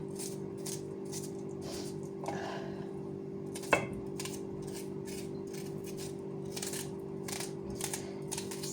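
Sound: chopping onions on a board

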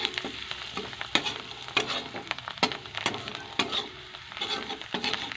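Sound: stirring onions frying with turmeric and coriander

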